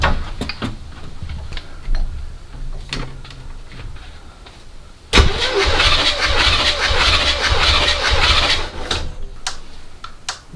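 A 1979 Chevy C10 big block 454 engine cranking over for a compression test, with clicking and ticking first, then a loud, steady rhythmic starter churn for several seconds.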